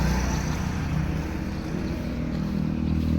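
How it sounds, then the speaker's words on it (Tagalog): Motorcycles passing along a road early in the morning, a steady engine drone that holds throughout without a clear pause. "Meron na dumadaanan ng mga motor."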